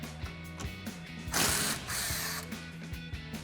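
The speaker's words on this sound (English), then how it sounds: "taking off the e-brake cable bracket on the side, just one 12mm bolt holding it onto the leaf spring" A ratchet working the single 12mm bolt off the e-brake cable bracket on a 2016+ Tacoma leaf spring, rapid close clicking pawl strokes in repeated bursts, with a brief louder rasping stretch midway.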